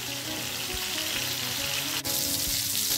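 Fish pieces pan frying in coconut oil give a steady, loud, close sizzle with no break, and a brief clink sounds partway through.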